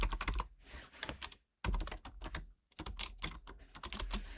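Computer keyboard keys clatter in quick bursts as code is typed, close and fairly quiet, with two short pauses between runs of rapid clicks.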